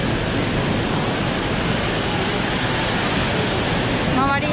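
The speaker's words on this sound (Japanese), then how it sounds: "さっき上で見た滝ですね。" A waterfall near Marina Bay Sands in Singapore roars as a steady, loud wash of rushing water throughout, with a faint voice briefly heard near the end.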